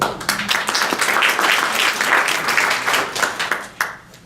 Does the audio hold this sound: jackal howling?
no